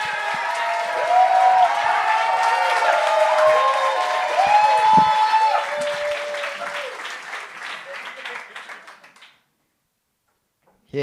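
Audience at a live comedy show applauding and cheering loudly to welcome a stand-up comedian on stage, sustained clapping with voices that fades out near the end, followed by brief silence.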